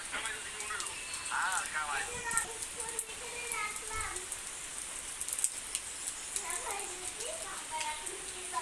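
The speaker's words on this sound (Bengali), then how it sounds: "বৃষ্টি হয়েই যাচ্ছে আর ফরেস্ট দেখো বৃষ্টির মধ্যে।" A faint, steady hiss of rain falling over a forest, with children's voices and other chatter over the soft patter.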